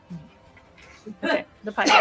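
A sneeze bursts out during a tabletop role-playing game session, sharp and close, with people talking around it.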